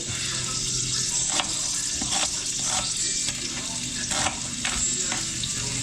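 Onion and garlic sizzle steadily in a pan on a home stove, a loud continuous frying hiss up close, with occasional stirring scrapes and faint water sounds behind it.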